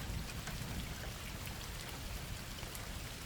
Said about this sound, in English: The rain was coming down hard that night, pounding the asphalt with relentless fury.